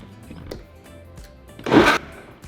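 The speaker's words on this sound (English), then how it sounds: "So now we're going to blend everything together until we have a smooth salsa." A blender briefly whirs through salsa roja with garlic, cumin, black pepper and oregano, a short loud burst near the end after quieter kitchen clatter and thumps.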